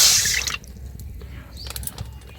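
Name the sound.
water being poured over grated coconut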